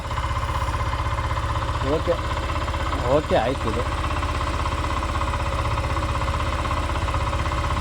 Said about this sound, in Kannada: ಐಡ್ಲಿಂಗ್ ಇವಾಗ ಜಾಸ್ತಿ ಆಗ್ತಾ ಇದೆ